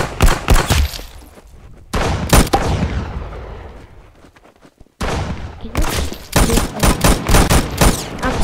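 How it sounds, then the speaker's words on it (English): Baseball guns in the Roblox Arsenal shooter fire in rapid bursts of sharp, loud cracks and thumps, with short pauses and echoing decay between volleys. "Who keeps shooting baseballs?"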